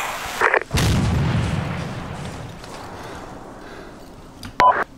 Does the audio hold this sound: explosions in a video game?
yes